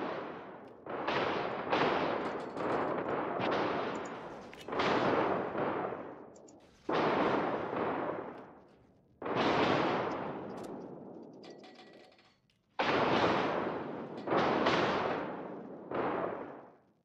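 Heavy naval gun salvos boom repeatedly in the World of Warships video game, several loud bursts with long rumbling decays separated by short pauses, no talk.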